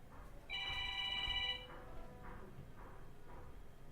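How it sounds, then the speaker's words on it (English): A telephone rings with one sustained electronic ringing burst lasting about a second, clear and fairly close, followed by quieter background room noise. "Phone."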